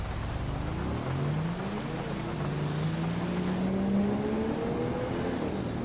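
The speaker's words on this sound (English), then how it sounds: "This car sounds amazing from the inside." Engine of a Dodge Dart highway patrol car in GTA V heard from inside the cabin, a steady droning hum whose pitch climbs gradually as it accelerates, with no talk.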